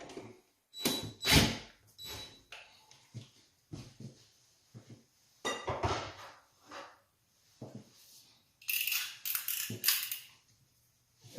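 A wall anchor being backed out of a hollow door, heard as intermittent scraping, creaking and rattling bursts separated by pauses, close and fairly quiet.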